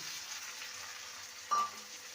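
Chopped tomato frying with golden-browned onions in a pan, a quiet, steady sizzle with a single brief squeak of a utensil against the pan midway, no talking.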